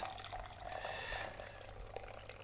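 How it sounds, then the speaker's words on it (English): Milky liquid pours off soaked cashews in a kitchen, a soft continuous trickle and splash with faint dripping, quiet and close. "We're going to start by pouring off some of the liquid."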